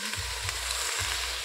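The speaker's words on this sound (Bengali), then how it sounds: "আর আমি এখন জল ঢেলে দিলাম।" Water poured into a hot cooking pot over a smoky clay stove hisses with a steady, dense sizzle, close and fairly loud, and holds without pause or any speech.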